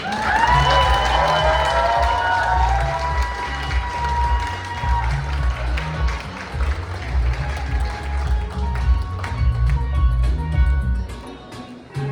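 Crowd at an awards gala in a banquet hall applauds steadily for several seconds, a dense wash of clapping with some cheering, over a low background hum and music.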